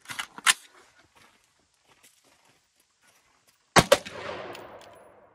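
A binary-trigger AR-15 pistol fires outdoors in sharp close bursts, a quick pair of loud cracks at the start and another rapid pair later with a ringing echo trailing off.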